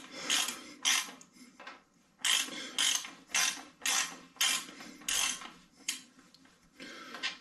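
Ratchet wrench loosening the rear shock axle bolt on a Rockrider ST530S mountain bike, a run of repeated clicking ratchet strokes in an irregular rhythm, close and alone.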